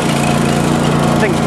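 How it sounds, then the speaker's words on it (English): A Snapper riding lawn mower engine runs loud and close with a steady droning hum throughout a brief moment, voices faintly audible beneath it. "first ride on the snapper mower, here it comes"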